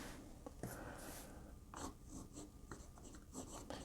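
A Moonman N2 fountain pen nib scratches across paper in short strokes and scribbles, quiet and close, with brief pauses between marks and no voices.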